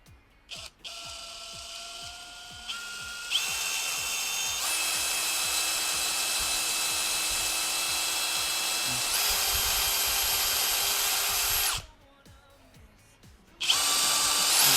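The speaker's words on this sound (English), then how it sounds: "I'm just going to carefully drill a hole where the nail was" A power drill bores a hole into a picture frame for a screw, a close, steady high whine that runs for several seconds, shifts pitch, stops briefly, then starts again.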